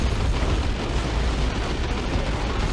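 Mortar shells bursting in Dawn of War 2 Retribution, a Warhammer 40k strategy game: a dense, continuous rumble of booms and blasts holds steady at high level throughout, with no voices.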